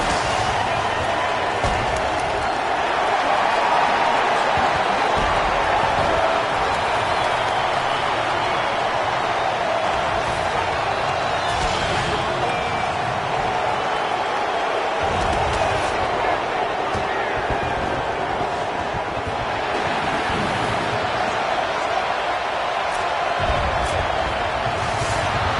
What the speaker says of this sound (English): The crowd has this place jumping already.